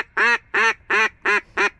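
Five loud, evenly spaced duck calls ring out one after another at a steady pace, close by and clear, during a duck hunt in which wood ducks are flying.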